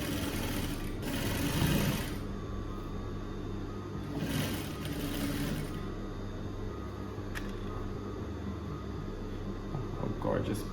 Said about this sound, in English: now let's stitch it again with the kind of top stitch